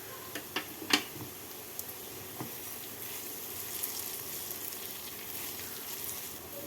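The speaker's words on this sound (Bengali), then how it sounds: "এবার এর মধ্যে আমি দিয়ে দেবো কোরানো নারকেল কোরানো নারকেল দিয়ে নাড়াচাড়া করে নেব" Grated coconut is stirred with fried chana dal in a pan for oria khichudi, with a few sharp clicks of a utensil against the pan early on, then a quiet, steady sizzle.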